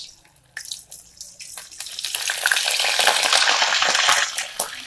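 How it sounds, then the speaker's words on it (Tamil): Ready-made KFC-style chicken bites dropped into hot oil for deep frying, the sizzle starting with scattered crackles and swelling into a loud, steady bubbling hiss with no talk. "அதுக்கப்புறம் நம்ம ஆயிலில் போட்டு ஃப்ரை பண்ண வேண்டியதுதான்"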